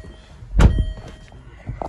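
Door of a Land Rover Freelander 2 2.2 SD4 shuts with a single solid thunk at close range, followed by faint rustling and small movements inside the car; no talking.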